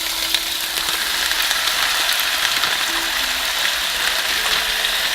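Ground turkey sizzling in a hot pan, a steady loud hiss and crackle of frying meat that holds evenly throughout with no voices.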